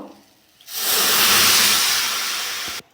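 Water poured onto sugar in a hot pan gives a loud, sudden steamy hiss lasting about two seconds before cutting off abruptly, close up, with no voices.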